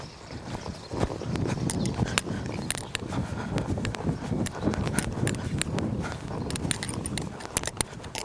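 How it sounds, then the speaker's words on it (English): Hoofbeats of a horse loping a big circle around a barrel during barrel-pattern training, a steady, repeated drumming of hooves on soft ground with some jingling tack, moderately close and without talk. "ask them to lope one big circle around that said barrel."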